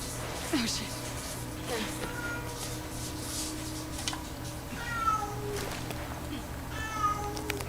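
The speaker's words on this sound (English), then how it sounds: "Meow, says the little kitty." A small kitten gives a few faint, high, rising meows, spaced seconds apart, over a steady low electrical hum and soft room noise.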